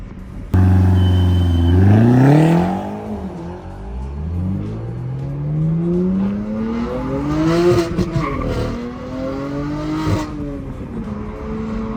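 A BMW M3 driving late at night on a very bumpy road, engine revving up and down in loud, close, rising and falling sweeps with some tyre noise, no talking.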